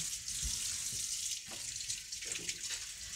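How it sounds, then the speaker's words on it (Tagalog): Used cooking utensils washed under a running kitchen tap, a steady hiss of flowing water with occasional clinks and splashes as items are rinsed. "Diretso ko na hugasan ang mga ginagamit ko."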